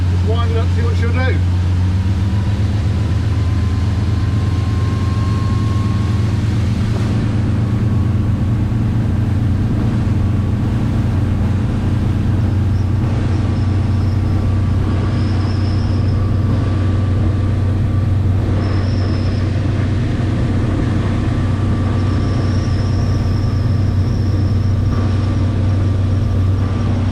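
Motorboat engine winding up to full power, a loud steady low drone with a rising hum that stays up close for the whole stretch while someone talks over it.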